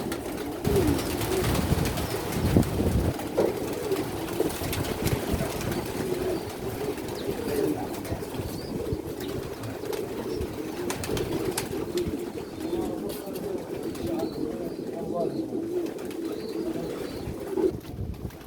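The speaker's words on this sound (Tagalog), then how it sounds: "Grabe, ang dami kalapati." A flock of pigeons coos continuously, many low burbling calls overlapping close up, with a few flutters and soft background noise.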